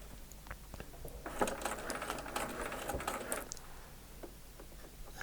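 A domestic sewing machine runs steadily while stitching a Y seam on patchwork for an eight-point star, the stitch length shortening gradually; a continuous close mechanical whir with light rapid needle ticks, no talk.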